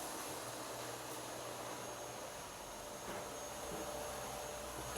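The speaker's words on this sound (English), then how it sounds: "I don't like the vacuum. Not a fan of the sound." A vacuum cleaner runs steadily in a room where a banana sling bag pattern is being made, a constant faint whirring hum with a low tonal drone that stays even throughout, with no voices.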